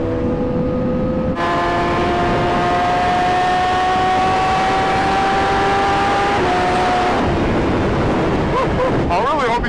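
A Honda Fireblade motorcycle engine hums steadily while riding, its pitch slowly climbing under heavy wind rush before dropping away near the end.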